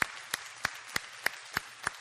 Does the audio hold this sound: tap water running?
no